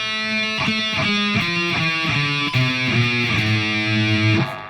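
A heavily distorted electric guitar plays a sweep-picking scale of single notes stepping steadily, each note sustained and gritty, loud and close.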